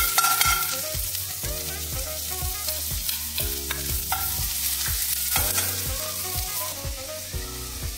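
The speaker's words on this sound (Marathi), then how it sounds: "तेल गरम करून घेतलंय। आता बारीक चिरलेला कांदा आपण त्यात टाकणार आहोत। आता 1-2 मिनिट आपण छान परतून घ्यायचंय।" Finely chopped onion sautés in hot oil in a pan, a close, steady sizzle broken by rhythmic knocks and scrapes of a spatula stirring it.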